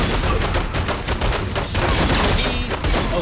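Rapid gunfire in The Godfather II video game, a dense fusillade of overlapping shots filling the whole stretch, loud and close with no talking.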